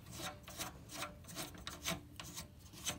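A toilet fill valve nut is turned by hand, giving a steady series of close, soft plastic rubbing and rasping strokes in a regular rhythm over about three seconds, with no talking.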